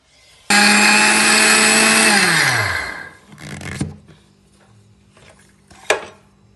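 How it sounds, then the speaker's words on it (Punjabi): An electric kitchen grinder grinds coconut in small batches, whirring loud and close for about two and a half seconds before winding down, followed by faint clatter and a sharp knock. "ਹੁਣ ਆਪਾਂ ਗ੍ਰਾਈਂਡ ਕਰ ਲਾਂਗੇ ਸਾਰਾ ਨਹੀਂ ਐਸ ਤਰ੍ਹਾਂ ਥੋੜੇ ਥੋੜੇ ਪਾ ਕੇ ਨਾ ਤੇ ਗ੍ਰਾਈਂਡ ਕਰ ਲਾਂਗੇ"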